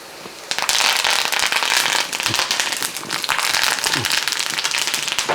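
Curry leaves dropped into hot oil with fried garlic for a ginger curry burst into loud, dense crackling and spitting that sputters on for several seconds, close to the pan.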